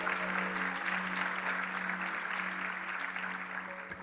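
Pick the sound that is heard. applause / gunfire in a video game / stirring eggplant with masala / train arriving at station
applause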